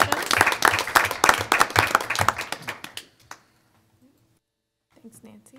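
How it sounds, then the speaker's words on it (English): Audience at a school board of education meeting gives students a round of applause, dense clapping for about three seconds that quickly fades out, followed by near silence and faint sounds. "let's give them all a big round of applause"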